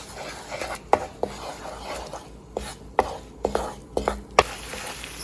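Ginger, garlic and crushed pepper are stirred in oil in a pan, with a spoon scraping and clinking against the metal in irregular taps over a soft, steady sizzle.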